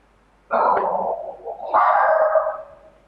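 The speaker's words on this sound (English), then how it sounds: "I have a dog who just woke up." A dog barks indoors, two loud close barks with a short pause between them, the second drawn out and whining.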